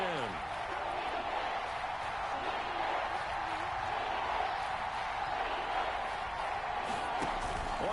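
Crowd noise in an American football video game, Browns versus Bears, rises as a constant roar of cheering under a commentator's voice throughout.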